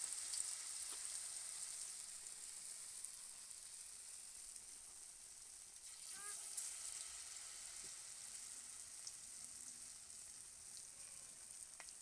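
Aloo chop and egg chop, a besan-coated potato and egg snack, fry in hot oil with a steady, faint sizzle that stays even throughout with no voices.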